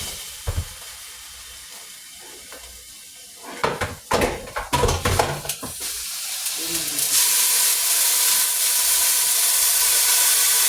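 Water hitting hot oil left in a pan after making popcorn, a few sharp clatters and pops followed by a rising, continuous loud hiss and sizzle.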